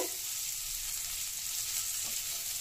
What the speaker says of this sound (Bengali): কিশমিশ দিয়ে দিলাম, ঘি, গোটা গরম মশলা, কাজু বাদাম, কিশমিশ আর তেজপাতার একটা খুব সুন্দর অ্যারোমা বেরিয়েছে।